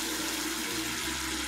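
Water gushes steadily from a tap onto a toy doll being cleaned, a loud, continuous hiss and splash with no voices.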